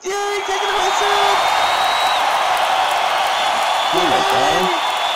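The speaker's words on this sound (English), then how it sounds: "let's hear those big applause for Marketplace Shopping with Seth" Studio audience clapping and cheering for a comedy show host's entrance, a dense steady roar of applause with whoops rising through it, plus a few excited voices calling out near the end.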